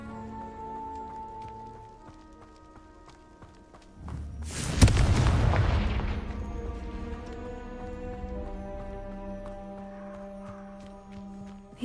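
Confringo spell blast in the video game Hogwarts Legacy: a sudden loud booming explosion mid-clip with a rumbling low tail that fades over a couple of seconds, against steady game music and ambience.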